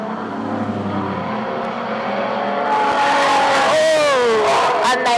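Street stock cars race into a turn at Cullen Bullen Raceway, with loud roaring engines and a rising, wavering whine as they pass close by, and a commentator talking over them.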